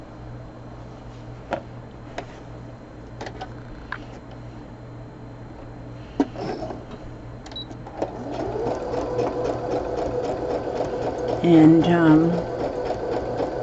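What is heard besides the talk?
sewing machine stitching quilt fabric pieces together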